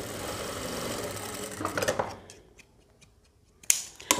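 A sewing machine stitches a blouse, its motor whirring steadily for about two seconds before tapering off, followed by a few sharp clicks of the mechanism, close and fairly quiet.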